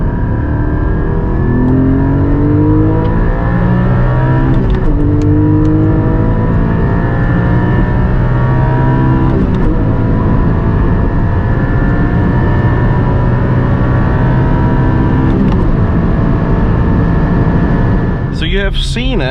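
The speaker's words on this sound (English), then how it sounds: "the first car that we were testing 100-200 is the 718 Cayman GT4, 420 horsepower" A manual Porsche 718 Cayman GT4 with 420 horsepower accelerates hard from 100 to 200 km/h. Its loud engine note climbs steadily, with brief dips at each gearshift along the run.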